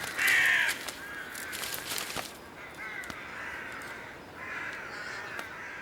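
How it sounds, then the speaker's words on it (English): Crows cawing in snowy winter cold: a loud, near caw first, then repeated hoarse calls further off, over faint outdoor ambience. "The omnipresent crows don't seem particularly worried by snow and cold."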